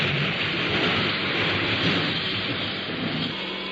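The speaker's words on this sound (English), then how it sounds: "The sound of rain." Steady, dense hiss of heavy rain falling continuously, loud and close, with a low rumble underneath and no voices.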